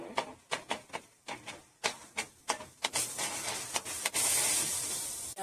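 Onion, tomato and garlic paste stirred in a hot pan: a run of sharp, evenly spaced scraping strokes, then a louder continuous hissing sizzle building near the end, close and clear with no voices.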